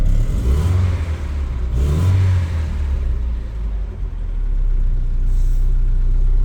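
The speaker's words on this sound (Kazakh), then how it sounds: "беріп көрші, газ басып көрші" A Volkswagen Passat engine with a stalling fault revs hard in a few bursts, the pitch climbing and dropping, then settles into a steady loud idle.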